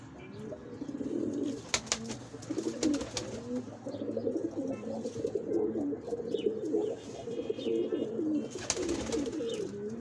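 Pet pigeons coo steadily in a pigeon loft, a continuous layered murmur of low throaty calls from several birds, with occasional brief rustles and clicks.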